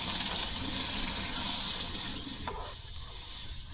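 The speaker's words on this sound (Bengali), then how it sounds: "এখন আন্দাজ মতো জল দিলাম" Water poured into a pot for a jute leaf and jackfruit seed curry, a steady close gushing hiss that thins out and fades near the end, with no voices.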